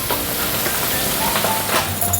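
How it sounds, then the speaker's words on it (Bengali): Hilsa fish pieces fry in hot oil, giving a steady, close sizzling hiss that holds evenly throughout with no talking. "বন্ধুরা এই যে মাছগুলো আমি এই যে হালকা করে একদম ভেজে নিচ্ছি তেলে"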